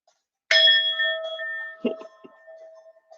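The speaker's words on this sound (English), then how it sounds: "Did you want to ring the bell one time?" A single bell strike in a vinyasa yoga class rings out clear and bright, its tone sustaining and slowly fading, with brief soft voices and movement in the background.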